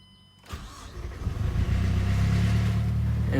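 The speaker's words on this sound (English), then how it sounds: "and start up the vehicle." First-generation Mazdaspeed 3 starting up: a short cranking whir breaks into a rising catch, then settles into a loud, steady idle rumble up close with no talk.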